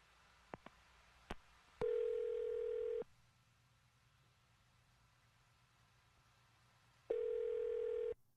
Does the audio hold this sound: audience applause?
no